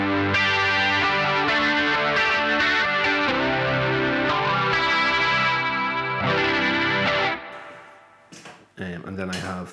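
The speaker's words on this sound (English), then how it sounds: "the other effects I have in here is I have that 70s chorus again" An electric guitar played through a 70s chorus effect on a Line 6 HX Effects unit, with shimmering, wavering sustained chords strummed in a steady pattern, then trailing off into brief quieter picking near the end.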